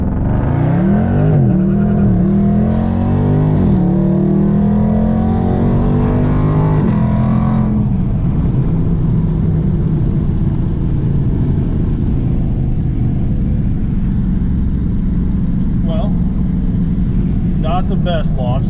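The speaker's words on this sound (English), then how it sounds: "Launch control activated." 2019 Dodge Charger Scat Pack leaving from a launch control start, a loud engine roaring up in rising pitch sweeps with wheel slip and hop, then settling into a rumbling drone, with talking over it.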